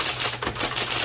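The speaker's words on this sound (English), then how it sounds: "Smith Corona Coronet Automatic 12. This types really well, and that font is so clear." A 1960s Smith-Corona Coronet Automatic 12 typewriter typing, a quick run of crisp, loud key strikes close by, evenly spaced with no voices.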